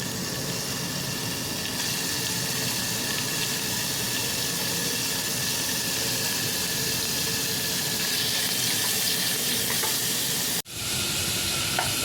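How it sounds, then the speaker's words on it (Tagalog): Meat sizzling and frying in a pan while being sautéed for igado, a steady close crackle with occasional stirring that runs continuously, broken by a brief cut near the end. "Sunod naman natin i-fry itong igisa itong ating, ayan, karne."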